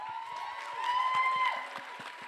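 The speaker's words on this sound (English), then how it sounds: "A round of applause for you guys." A crowd at a dance show applauds with steady clapping and some cheering, a continuous wash of sound that swells slightly in the middle.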